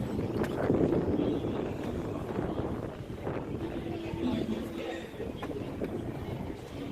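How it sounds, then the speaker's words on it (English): Gusty wind buffets the microphone on a busy city street during outdoor painting, a steady low rushing roar that swells and eases throughout, with faint traffic and street noise mixed underneath. "The wind is really kicking up here."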